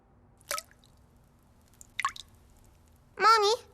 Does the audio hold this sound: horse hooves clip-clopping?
no